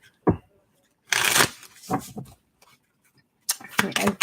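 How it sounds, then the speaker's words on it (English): Tarot cards being shuffled in short riffling bursts, a quick snap near the start, then two longer shuffles separated by brief pauses, close and crisp. "Final shuffle."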